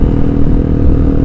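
Honda CRF supermoto motorcycle engine on a Riau road, loud and close, a continuous throbbing mid-range drone for just over a second as the rider opens the throttle.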